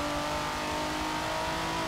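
Bugatti Chiron engine in a Forza racing game, a loud steady high-pitched rev holding constant without pause, the tonal whine sitting dense and close.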